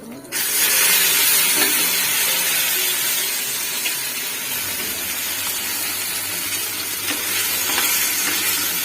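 Steady loud sizzling as taro (arbi) fries in a pan, a dense hiss that starts abruptly and continues, with occasional stirring scrapes.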